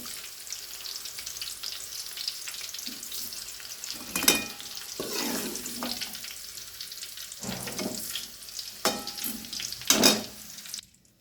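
Bitter gourd sautéing in a pan for a tamarind gravy, with a steady oily sizzle and several sharper scraping stirs of a spatula against the pan, close and fairly loud.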